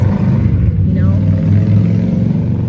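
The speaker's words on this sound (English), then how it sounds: "I know the cars out here are kind of loud" Traffic rumbles past outdoors, a loud low engine drone with a brief rising whine partway through, continuous and fairly close, while the background stays busy.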